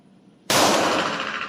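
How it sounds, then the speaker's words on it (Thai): A single loud pistol shot, fired two-handed at a shooting range, bursts suddenly out of near-quiet and rings on in a long, bright tail. "โอเคงั้นขอยิงสองมือครับ"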